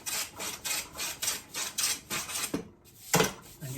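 Hand plane shaving across the grain of thin guitar side wood, a steady run of rhythmic rasping strokes about two per second, close and alone, ending with a short pause and a final sharper stroke.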